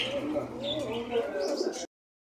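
Fancy pigeons at a busy pigeon market coo in soft, throaty, repeated murmurs, close by, with a faint din of the market behind, cut off abruptly.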